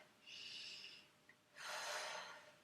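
Two deep, breathy intakes and exhales during a gentle kitchen workout with resistance bands, close and airy, the second breath longer and fuller, with a faint quiet pause between them.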